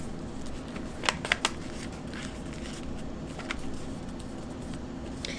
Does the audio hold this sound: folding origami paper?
yes